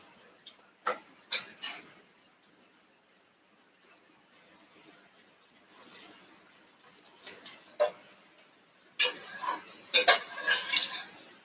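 Diced onion cooks in a pan while being stirred, heard as quiet stretches broken by scattered sharp clinks and scrapes of a utensil against the pan, with a busier cluster of scraping toward the end.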